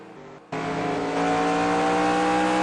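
Stock race car engine lapping North Wilkesboro, a brief lull then a loud, sustained near roar with steady high revs and layered engine tones, another car audible underneath.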